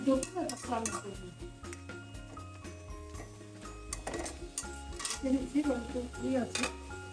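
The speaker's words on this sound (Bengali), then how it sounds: "একটা লাউ শাক শাক ভাজি করছি রসুন আর" Bottle gourd greens with garlic fry in a pan while a spatula stirs them, producing repeated scraping and clinking metal strikes over a soft sizzle, with a voice talking intermittently nearby.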